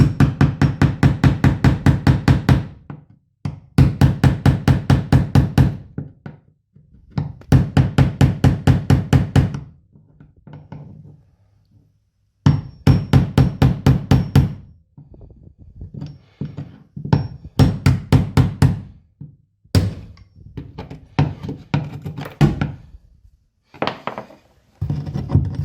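A chisel is hammered against broken ceramic wall tile in sharp, rapid bursts of loud metallic knocks, several volleys separated by short pauses, close and without any talk.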